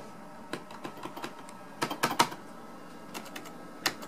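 Scattered key presses on the keyboard of a 1993 Packard Bell Legend 855 computer, with single clicks and a quick cluster of taps near the middle, heard up close with no talking.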